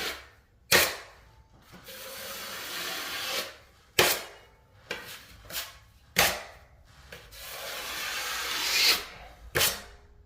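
A drywall knife scrapes joint compound along an inside drywall corner in several long, raspy smoothing passes, close up, broken by a few sharp taps and clicks between strokes.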